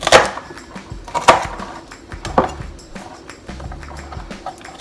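Green beans being cut with a knife in a home kitchen, heard as three separate crisp cutting thunks spaced about a second apart with soft handling noise between them.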